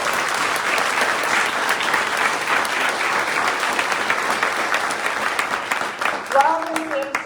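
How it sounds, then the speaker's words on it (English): Steady applause from a crowd fills the room for several seconds, dense and continuous, fading slightly at the end. "Let's give her another round of applause"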